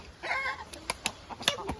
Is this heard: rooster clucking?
yes